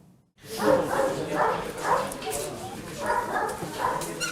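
Young Belgian shepherd puppies at a police service-dog kennel give a run of repeated yelping barks and whimpers, close and fairly loud, in an irregular rhythm.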